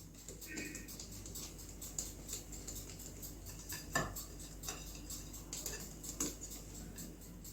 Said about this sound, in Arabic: انا هنا هقلب لحد ما الدقيق يختفي معايا تماما